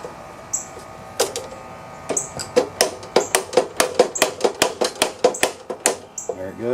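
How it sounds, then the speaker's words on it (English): A hammer taps on a stuck drive disc of a Snapper Ninja riding mower, striking sharp metallic blows. Sparse hits at first quicken into a steady run of about twenty close, ringing strikes. "So I wonder if I can start tapping on that and see if I can get it to budge that way."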